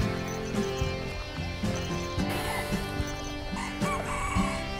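Bantam chickens at a farm pond in rural Thailand crow and cluck repeatedly in a dense, busy chorus, several birds overlapping close by with no talk.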